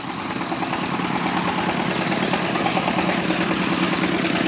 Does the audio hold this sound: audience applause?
no